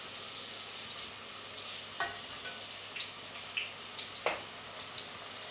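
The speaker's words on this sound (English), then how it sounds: "I'm now adding my samosas to the pot, and as you can see they are cooking up" Meat samosas fry in hot oil in a pot, a steady close sizzle running throughout with a few sharper pops and crackles breaking through the bubbling.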